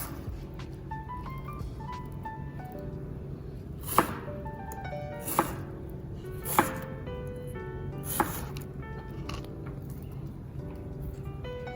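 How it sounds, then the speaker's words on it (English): Knife dicing vegetables for a vegetarian chili on a cutting board, a handful of sharp, separate chops spaced a second or so apart over steady background music. "we're going to go down and we're going to get nice dices"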